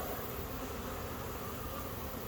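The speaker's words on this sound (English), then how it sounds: "There's a pretty good number of bees right there." Honeybees buzz densely and continuously inside a nuc hive after smoking, a loud close hum with no voices.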